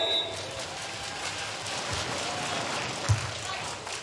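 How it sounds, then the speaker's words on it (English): Spectators at a women's semifinal beach volleyball match between Finland and the USA clap steadily in a dense, moderately loud wash, with a voice speaking over it and a brief thump near the end. "Please give your applause for Finland and the USA."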